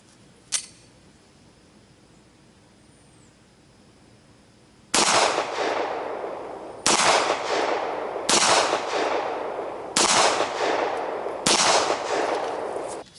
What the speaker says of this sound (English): Jesse James ammo through the Beretta